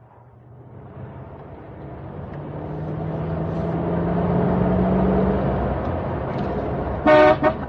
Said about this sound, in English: I think there's a car following us, Mr. Hayward.